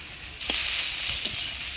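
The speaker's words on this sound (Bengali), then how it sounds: "লবণ শুটকি মাছটা একদম মচমচা করে ভাজবো" Salted dried shrimp frying in a pan until crisp, a steady close sizzle throughout with a few soft stirring clinks, no voices.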